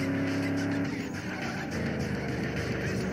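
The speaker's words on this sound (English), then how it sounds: "I can hear his engine sound." A rival car in the street-racing game Need for Speed Underground 2 roars close behind, its engine droning steadily with tire squeal mixed in, loud and continuous over the short stretch.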